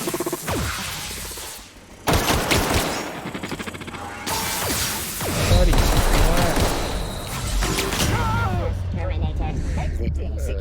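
Pistol gunfire in The Outer Worlds video game, with rapid shots and bursts rattling through a loud, dense stretch of combat sound effects, crashes and whooshes over about ten seconds.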